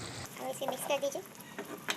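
Tikka karahi gets stirred in a pan over charcoal, soft scraping and light sizzling in short irregular strokes, with a brief voice heard partway through.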